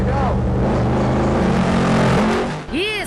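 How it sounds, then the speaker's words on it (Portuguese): A car engine runs loud and close as the vehicle is driven on a test drive, with a steady drone that rises and falls as the car brakes; someone talks over it throughout. "Ih, César, motor alto, hein?"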